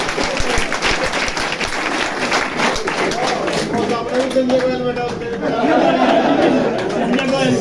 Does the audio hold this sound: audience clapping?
yes